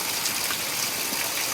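Heavy rainwater running toward the street during a downpour, a steady broadband gushing rush with no pauses, close and fairly loud throughout.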